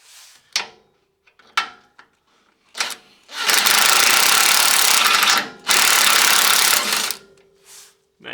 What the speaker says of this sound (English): I'm just going to take my impact here and I'm going to loosen everything off